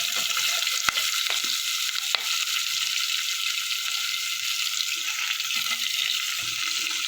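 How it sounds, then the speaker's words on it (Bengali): Green chilies and chopped onion fry in a pan for egg curry, making a loud, continuous close-up hiss of sizzling oil with a couple of sharp ticks. No one speaks. "দেবো 4টে কাঁচা লঙ্কা আর কুচনো পেঁয়াজ।"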